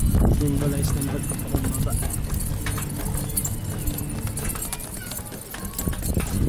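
Hooves of a small pony clip-clop steadily in a busy outdoor crowd, with people talking over the continuous background noise.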